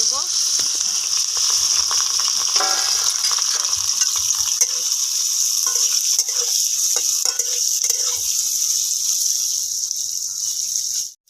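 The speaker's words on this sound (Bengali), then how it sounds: "এবার পনিরগুলোকে আরেকবার ভালো করে ভেজে" Paneer cubes frying in a pan give a steady, fairly loud sizzling hiss throughout, with scattered scraping and clinks from stirring, and brief speech-like sounds under the frying near the middle.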